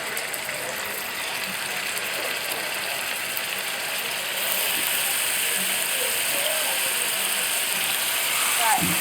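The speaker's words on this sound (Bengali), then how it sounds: "এখন একটি একটি করে শিক কাবাবগুলো তেলের মধ্যে দিয়ে দিচ্ছি।" Beef seekh kebabs frying in oil in a pan make a broad, steady hiss that swells louder partway through, with a brief clatter near the end.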